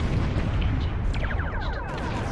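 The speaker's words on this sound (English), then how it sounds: "The torpedo's going." Torpedo launch in a Star Trek simulation game: a sustained loud booming, rumbling blast with rising warbling tones on top, continuous for a couple of seconds.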